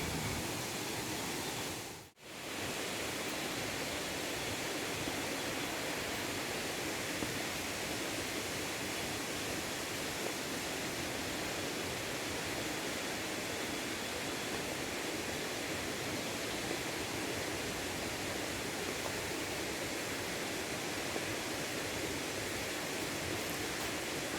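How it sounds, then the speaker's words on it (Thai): Sapan waterfall in Nan province, Thailand, roaring as a dense, steady wash of falling water, loud and continuous throughout with only a brief dip near the start, and no voices. "ที่นี่ก็คือ น้ำตกสะปันนะครับ จังหวัดน่าน"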